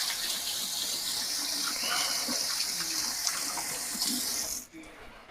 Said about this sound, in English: Let me wash my hands real quick from shrimp.